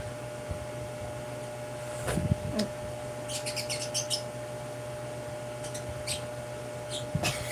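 Small birds chirp in short, high, scattered bursts against a steady hum and faint room noise, with a few soft knocks.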